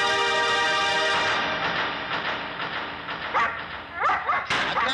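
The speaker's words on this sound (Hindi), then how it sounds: "फिर क्यों भौंक रहा है?" A dog barks a few times in short bursts near the end, over a loud sustained music or engine-like drone that fills most of the scene.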